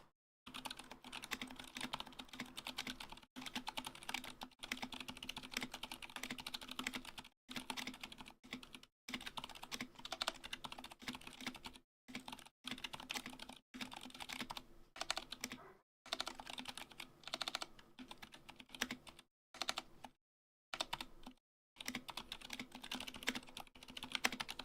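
Steady typing on a computer keyboard fitted with swapped ABS keycaps, dense bursts of clacking keystrokes with brief pauses, close and alone without talk.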